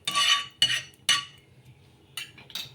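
Metal utensil scraping and clinking in a pan as cooking oil is spread around it, three quick bursts early and two more later, close and fairly loud with quiet gaps between.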